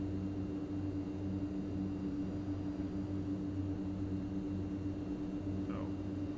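An Inibuilds MU2 turboprop taxis in Microsoft Flight Simulator, its engines giving a steady droning hum with a constant low tone throughout and a brief faint chirp near the end.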